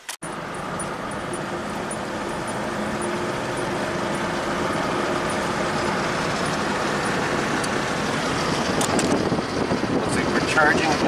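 A 2012 Honda Odyssey minivan driving on the road, steady interior engine and road rumble building gradually over the drive, with a faint voice briefly under the noise.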